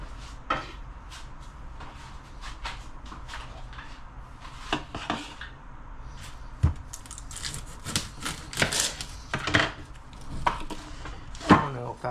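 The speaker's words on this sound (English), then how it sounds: "I do use my dicer because I'm not good at chopping things" Vegetables for salsa are chopped with a hand dicer, giving a run of sharp, irregular clacks and thumps on a board, close and moderately loud, denser toward the end, with no speech.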